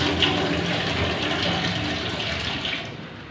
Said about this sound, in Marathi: शेंगा अशा स्वच्छ पाण्याने धुवून घ्यायच्या.